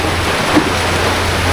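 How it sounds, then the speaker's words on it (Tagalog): Rain falls steadily as an even, fairly loud hiss, a short continuous wash of patter with a low hum beneath and no voices. "Ayan guys, umuulan."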